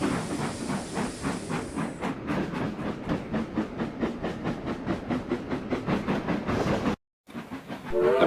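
A steam locomotive in a railway video game chuffs in a rapid, steady rhythm with hissing steam as it departs a station, loud and close, cutting out briefly near the end.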